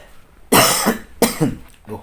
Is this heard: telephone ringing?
no